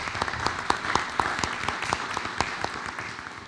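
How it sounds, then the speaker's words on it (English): Applause from the audience at a school board of education meeting, a sparse round of individual claps with distinct sharp hits over a steady room wash, moderately loud, with no talk. "If you would, give Ms. Cheyenne Barrett a round of applause."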